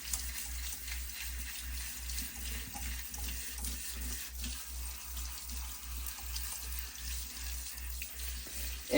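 Tap water runs steadily into a kitchen sink used as a rinse station for metal finishing and engraving work, a continuous close hiss with a low steady hum underneath and no talking.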